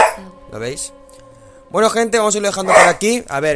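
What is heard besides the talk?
dog barking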